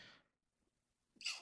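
A single sneeze in a podcast setting: a soft intake of breath at the start, a quiet pause, then a sharp burst of the sneeze close to the microphone near the end.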